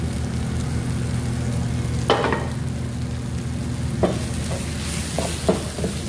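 Meat frying in a pan with spices including salt, cumin, berbere and baharat, a steady loud sizzle with occasional scraping strokes of a spoon stirring the mixture.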